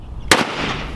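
A single sharp gunshot from a gold Desert Eagle .50 AE pistol in a video game, one loud close crack with a brief ringing tail that fades into low background noise.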